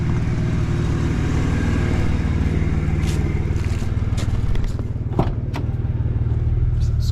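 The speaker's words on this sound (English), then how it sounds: "that exhaust leak's pretty bad" An old Isuzu pickup idles with a bad exhaust leak, giving a steady, loud, throbbing putter with a few faint clanks and scrapes over it and no voices.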